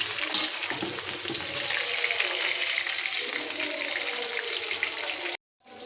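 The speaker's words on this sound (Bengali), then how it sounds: "মাংসটা আর আলুটা একটু লাল লাল করে ভেজে নেব" Chicken pieces and potatoes sizzle in hot oil for a chicken kacchi biryani, a steady loud crackling hiss that holds for over five seconds and then cuts off abruptly, with no voices.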